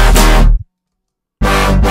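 A fat, wide Flume-style lead patch built in Massive from stacked, slightly detuned layers plays two loud, bright, distorted notes separated by about a second of silence.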